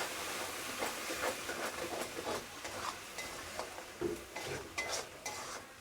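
Spice paste and water are stirred in a pan, giving soft scraping, wet swishing strokes with faint hissing, quiet and close, in an irregular rhythm of small clinks and scrapes.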